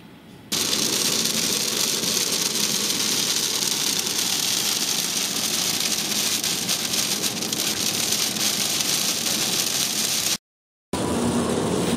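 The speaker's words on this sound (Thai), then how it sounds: "ฝนตก" Rain pours steadily outside a minimart in Montana near Glacier National Park, a loud, dense hiss of drops on surfaces with a low engine idling underneath, briefly cutting out near the end.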